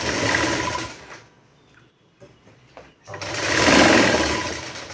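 A sewing machine stitches a fitting seam on a blouse, running in a loud, close whir that breaks off for about two seconds in the middle, then starts again and swells before fading.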